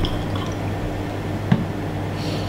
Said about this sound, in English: I'm supposed to fill this test tube with deionized water